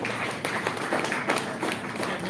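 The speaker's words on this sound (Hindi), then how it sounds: "भैया बहन आप वहीं से ताली बजाइए भैया मोहित के लिए" An audience at a 15 August Independence Day program claps for a student named Mohit, a brief burst of scattered, uneven applause, fairly close and lively.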